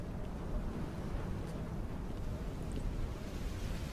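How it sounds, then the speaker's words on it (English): Steady, rushing wind in the video game Dear Esther fills the whole stretch, a dense low roar with no pauses and no voices. "it is very windy around here"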